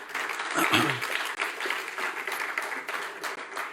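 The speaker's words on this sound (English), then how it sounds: "let's give them some applause as they come up" A crowd claps for candidates walking up at a Texas congressional district Democratic candidate forum, with moderate, steady applause running the full length under a speaking voice.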